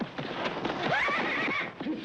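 A horse whinnies loudly and close by, a rising then falling neigh lasting about a second, with faint hoof movement around it.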